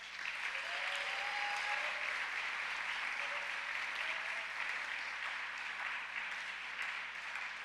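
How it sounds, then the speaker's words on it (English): Sustained, even applause fills a school convocation hall after scholarship honorees are named, a broad steady wash of clapping with faint voices and whistles threaded through. "Big round of applause."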